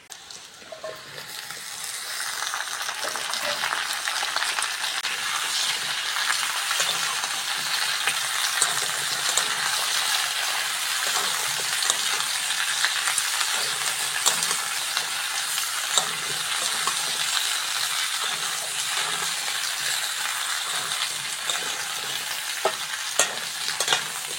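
Okra and potatoes fry with onions in a pan, filling the whole stretch with a loud, constant sizzle and crackle close by, while occasional stirring scrapes and clicks come through and nobody speaks.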